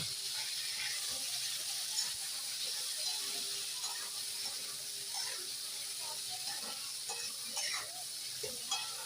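Mixed spices with salt frying in mustard oil, a faint, even sizzle with occasional light stirring scrapes running steadily throughout, close but soft, no speech.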